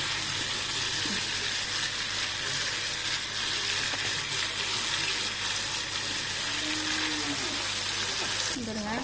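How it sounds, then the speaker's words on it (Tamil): Chicken pieces frying in oil in a small pan, a steady bright sizzle and crackle running throughout, close and continuous, with a few faint background tones. "நான் கொஞ்சம் கொஞ்சமாக போட்டு ஃப்ரை பண்ணுறேன்"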